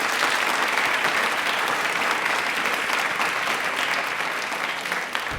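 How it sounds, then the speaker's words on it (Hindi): Loud, sustained applause from a studio audience at an Indian Railway quiz programme, a dense steady wash of many hands clapping throughout with no talk. "तालियां एक बार"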